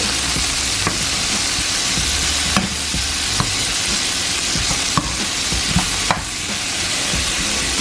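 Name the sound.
shrimp frying and being flipped in a pan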